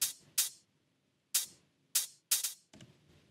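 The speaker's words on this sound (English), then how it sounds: "Short and punchy head sound." Short, punchy hi-hat hits in a melodic techno track play in a sparse, uneven pattern, each crisp and quickly cut off, with gaps of silence between.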